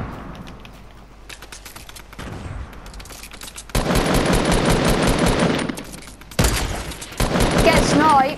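Rapid automatic gunfire and sniper rifle shots in a video game, loud sustained bursts with short pauses, players chatting under the shooting.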